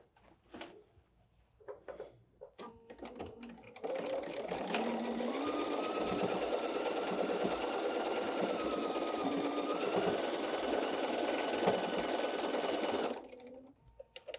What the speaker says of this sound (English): I'm going to sew that and we'll have an apple block.